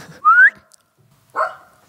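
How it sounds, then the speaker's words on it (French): A short rising whistle calls a guard dog over, followed after a pause by a brief soft sound from nearby, in an otherwise quiet room. "Le chien de garde. Petit Colina, tu viens"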